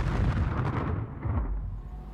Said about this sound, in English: German artillery and rocket launchers pound the American defenses.